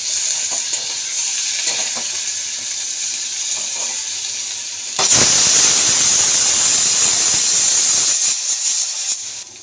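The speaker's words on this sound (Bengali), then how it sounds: "তো আদা রসুনটা একটু ভাজা ভাজা হবে" Ginger and garlic frying in a pan, a continuous loud sizzle and hiss that swells sharply halfway through as the pan heats up or more goes in, close by with no talk.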